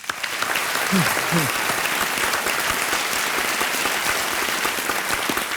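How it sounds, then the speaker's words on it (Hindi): A large studio audience on Kaun Banega Crorepati applauds loudly and continuously, with a couple of brief voiced calls near the start poking through the clapping. "तालियों के साथ हम आपका अभिनंदन करते हैं"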